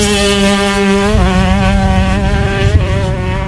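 A 2018 Yamaha YZ125 two-stroke motocross bike rides hard and loud, its high-pitched engine whining and shifting pitch as the rider works the throttle, close and continuous with no talk.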